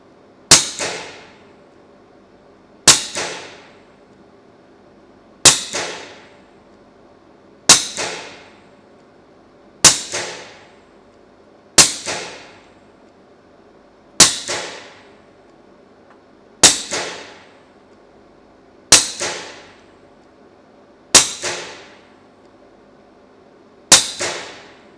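A Taipan SLASH air rifle fires eleven sharp, evenly spaced shots at a target, each crisp crack followed by a short ringing decay, about two and a half seconds apart, loud and close with quiet between.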